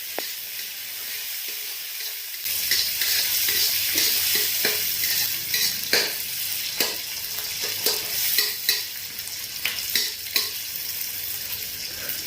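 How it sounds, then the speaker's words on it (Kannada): Tomatoes, onion and green chillies fry in a pan for a North Karnataka roti oggarane, a steady hiss of sizzling broken by repeated scraping stirs and spatula clicks, close and alone with no talk. "ಈರುಳ್ಳಿ ಮೆಣಸಿನ್ಕಾಯಿ ಎಲ್ಲ ಚೆನ್ನಾಗಿ ಫ್ರೈ ಆದ ನಂತರ ಕಟ್ ಮಾಡಿ ಇಟ್ಕೊಂಡಿರ್ತಕ್ಕಂತಹ ಟೊಮ್ಯಾಟೊನ ಹಾಕಿ ಮತ್ತೊಮ್ಮೆ"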